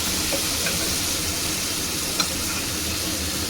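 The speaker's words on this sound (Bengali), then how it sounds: "আর এখানে যেটা টমেটো আর দুটো কাঁচা লঙ্কা আমি পেস্ট করে রেখেছিলাম সেটা দিয়ে দিলাম।" Tomato and green chili paste sizzles loudly and steadily in a hot pan, a constant close hiss with a faint tap or two of a utensil.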